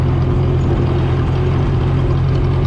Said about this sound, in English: First time this tractor's run in a long,